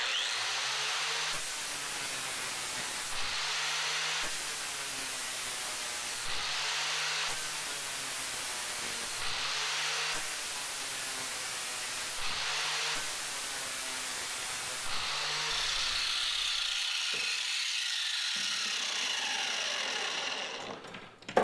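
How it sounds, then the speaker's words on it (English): A 60 grit flap disc on an angle grinder sharpening an Oregon Gator blade from a Skag mower, loud continuous abrasive grinding in repeated passes with brief dips between strokes, then the motor winding down at the end. "I will demonstrate the 60 grit on an Oregon Gator blade from a Skag mower."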